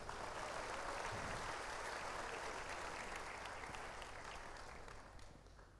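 A crowd applauds steadily at a gathering, with dense, even clapping that holds for several seconds and then fades toward the end. The sound is fairly quiet and distant.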